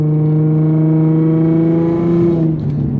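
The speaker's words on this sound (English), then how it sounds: "I love listening to the exhaust, bro." Infiniti G35 exhaust while driving in a busy city: a loud, steady low drone with a smooth harmonic tone, holding even and then dropping off near the end, with no talk.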